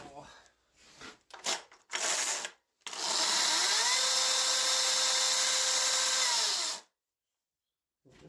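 An old chainsaw cutting into wood during carving: a few short throttle blips, then one long, steady, loud cut that holds for about four seconds before stopping abruptly.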